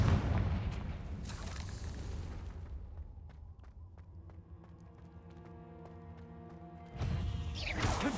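A Confringo blasting spell explodes in Hogwarts Legacy with heavy, rumbling bursts at the start and again near the end. Quieter sustained musical tones and faint chimes fill the gap between.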